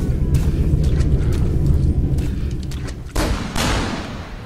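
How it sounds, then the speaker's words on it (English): Gunfire in a horror video game set in 1916: a few sharp, fairly distant shots, the clearest two close together near the end, over a steady low rumbling background. "I heard gunshots this direction."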